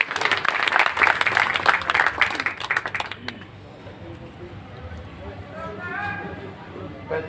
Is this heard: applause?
yes